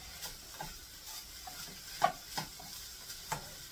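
Homemade beefaroni being stirred in a pot, with soft scraping strokes and a gentle sizzle at an even rhythm, a few louder clinks of the spoon against the pot standing out.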